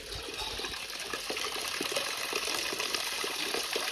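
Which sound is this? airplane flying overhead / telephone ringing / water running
water running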